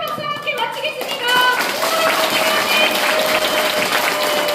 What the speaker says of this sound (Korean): 여러분의 힘찬박수와 함께 마치겠습니다.